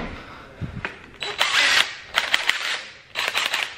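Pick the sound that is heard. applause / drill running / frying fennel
drill running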